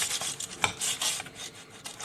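A metal spatula scrapes and rasps a gluten-free vegan quinoa flatbread loose from a hot baking tray, a run of close, dry scratching strokes with one sharper clack partway through.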